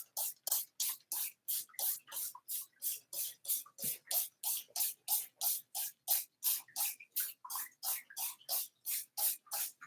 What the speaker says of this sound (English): I have to like spray all these all again